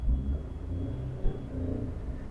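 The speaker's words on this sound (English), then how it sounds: "nice little engine noise" Low, steady hum of a small car engine idling or cruising, with a faint rumble and no voices.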